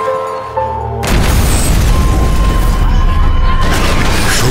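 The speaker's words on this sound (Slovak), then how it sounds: "Došlo k explózii" An explosion at the Boston Marathon: a sudden loud boom bursts in after a quieter opening, followed by sustained roaring rumble and debris noise.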